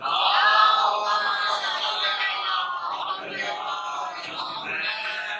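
A crowd of voices loudly chants salawat in unison during a marsiya recitation about Qasim going to battle, a dense, sustained group chant that swells and dips without pause.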